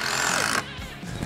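Two cheap power drills from a Temu tool pallet whine loudly together in a drilling race, then cut out sharply, leaving a quieter rumble and brief noise.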